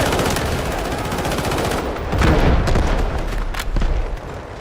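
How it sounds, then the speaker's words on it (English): In the Delta Force video game, rapid machine-gun fire rattles loud and close, then a heavy grenade blast booms partway through, followed by more bursts of gunfire and thuds. "Grenade on the way!"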